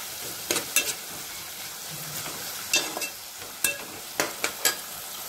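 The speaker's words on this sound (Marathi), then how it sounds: "थोडीशी आलं लसणीची पेस्ट घेतलेली आहे. तिला तांबूस कलर येईपर्यंत आपण परतून घ्यायचं आपल्याला." Onion with ginger-garlic paste sautés in a pan: a low, constant sizzle punctuated by repeated scraping spatula strokes, several quick pairs of stirs over a few seconds.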